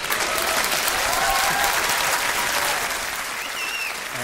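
An audience at a live talk show breaks into sustained applause, a dense, even wash of clapping that continues at full strength with no pause.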